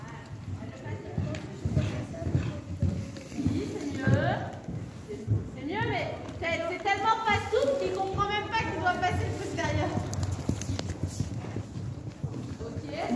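Horses racing: a rapid, rhythmic clatter of hooves on the track runs throughout, mixed with an excited commentator's voice and crowd chatter.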